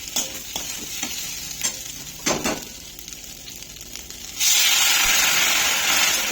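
Fried masoor and biuli dal stirred in a pot: a run of scraping, clattering stirs over a low sizzle, then a sudden loud, steady hiss swells up for the last two seconds, close and without speech.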